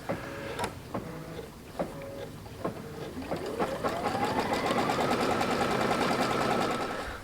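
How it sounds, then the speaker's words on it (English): A Brother Luminaire XP2 embroidery and sewing machine stitches a flying geese quilt block in the hoop, giving a few separate mechanical thunks and then a steady, rapid, whirring stitch rhythm close by. "I'm going to drop my foot and let it sew that piece there."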